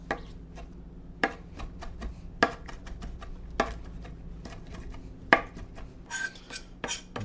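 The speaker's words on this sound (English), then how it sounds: "to kind of roughly chop it" A knife roughly chopping fresh parsley leaves on a board, a dozen or so crisp, irregular thunks spaced apart, close and fairly quiet with no talking.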